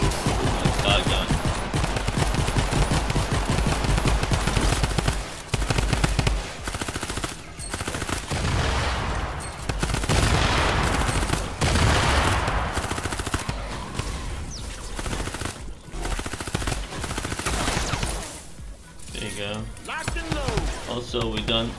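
Rapid automatic gunfire hammers at husks in Fortnite Save the World, dense bursts of shots running nearly continuously with short pauses, loud and close, with someone talking over the shooting.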